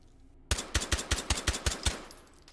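Suppressed Llock pistol fitted with a stock, fired in the video game H3VR: a rapid string of about nine evenly spaced, muffled shots after a brief quiet start, close and punchy.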